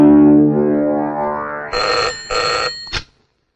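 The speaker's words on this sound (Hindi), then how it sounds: "जा जल्दी शीला के बाप को फोन कर दे।" A telephone bell rings loudly and close in a film scene, with two bright ringing bursts and a short third one near the end after a sustained tonal sound.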